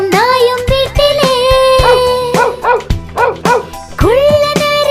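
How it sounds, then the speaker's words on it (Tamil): A dog barks repeatedly in a children's rhyme, a rapid run of loud, close yaps and yips with brief pauses between bursts. "அழகும் நாயும் வீட்டிலே"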